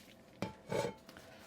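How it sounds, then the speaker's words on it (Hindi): A pot of cooked tomato and onion is half-covered with a lid and lifted off the stove, giving a couple of short metallic clanks and a scraping clatter in a quiet kitchen. "बस इसको आपने हाफ कवर करके बस चूल्हे से हटाएं"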